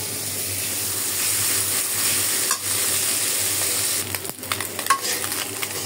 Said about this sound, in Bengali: আমার মাছটা কিন্তু প্রায় ভাজা হয়ে গেছে।